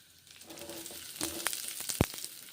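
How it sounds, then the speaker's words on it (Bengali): Red lentils (masoor dal) fry in oil with bay leaf in a pan, making a faint, soft sizzle with scattered crackles and a sharp stirring scrape near the end. "মুসুরির ডালগুলো বেশ ভালো করে ভেজে নিচ্ছি"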